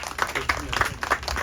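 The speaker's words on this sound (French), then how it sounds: "Donc, je vais applaudir ces cuisiniers-là." A small crowd at an outdoor picnic in Sainte-Suzanne, Réunion, claps for the cooks in a brief burst of scattered hand claps, with a voice talking over it.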